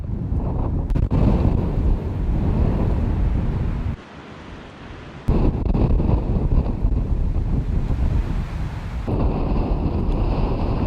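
Strong, gusty wind buffeting a GoPro Hero 7 fitted with an external microphone during extreme weather, a loud continuous roar that drops briefly before surging back, with no talk.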